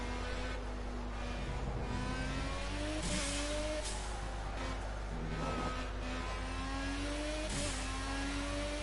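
A car carrying a heavy fuel load revs hard through repeated rising sweeps as it climbs through the gears, with brief breaks at each shift, a loud, continuous engine drone heard from close by.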